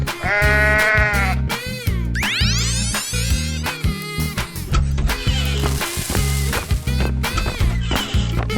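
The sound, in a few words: sheep bleating in a 3D animal slide video game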